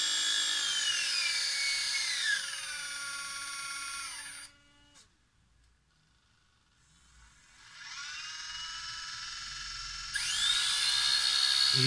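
An XK K120 RC helicopter's small electric motor whines at 30% throttle, a high steady buzz that drops away to near silence mid-way, then spools back up loud and close, with no talk.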